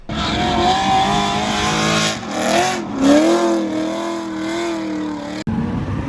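A Corvette drift car runs at a race track during testing, its engine roaring loud and near with rising and falling revs and a tire squeal, then a sudden cut and restart near the end.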